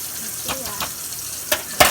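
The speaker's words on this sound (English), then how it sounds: "We're still stirring these grits." Cheese grits stirred in a pot, with soft scraping strokes and a couple of sharper utensil knocks toward the end, a short close-up kitchen sound with no talking.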